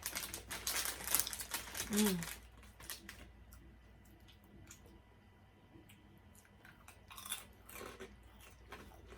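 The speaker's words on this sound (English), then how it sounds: "These are really good and they're really crunchy." Crunchy snacks being bitten and chewed up close, a burst of loud crunches at first, then softer, quieter chewing.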